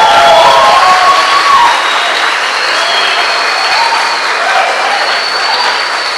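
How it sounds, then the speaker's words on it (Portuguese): A church congregation claps and cheers to welcome a bishop, loud sustained applause filling the room, strongest at first and then settling into a steady even patter. "Você pode recebê-lo com carinho, com aplauso."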